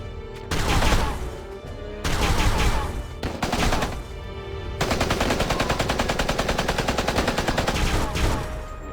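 Sustained gunfire volley from soldiers in the video game War of the Visions FFBE, loud bursts of rapid shots that break off, then a dense, steady machine-gun-like rattle running to the end with no talk.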